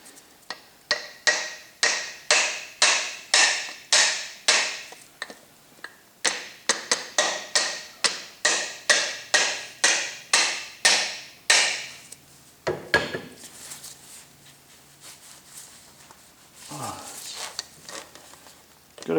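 Pistons for a 308 Holden engine are driven in with a soft hammer, giving a long run of evenly spaced, sharp, close taps before the blows thin out into scattered knocks and handling noise.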